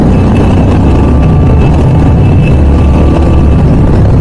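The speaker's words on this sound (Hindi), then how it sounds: "यहाँ पर मचाएंगे थोड़ा GT का शोर, एग्जॉस्ट के फायदे उठाएंगे थोड़े से" Royal Enfield GT650 motorcycle inside a road tunnel, its exhaust giving a loud, unbroken, booming engine roar that fills the whole stretch, with no voices.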